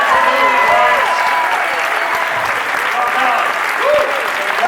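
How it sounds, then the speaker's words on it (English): A Comic Con convention crowd applauds loudly and continuously, with cheering and whooping voices rising over the dense clapping throughout. "Big round of applause for the official movie"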